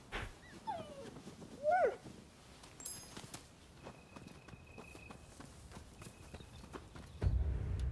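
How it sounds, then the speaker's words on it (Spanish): Dog in the video game Rise of the Ronin giving a few short whimpers and yelps among horse hoof clip-clops and footsteps, with quiet game ambience and a brief loud thump at the end. "El perrito otra vez."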